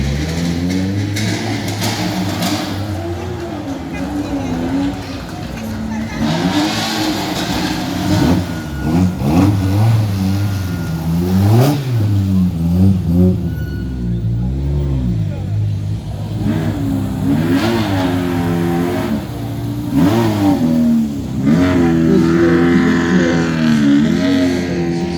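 A small Peugeot 205 rally car at the finish of a Wallonia rally revs its engine repeatedly, the pitch rising and falling in loud, close bursts, with people talking over it.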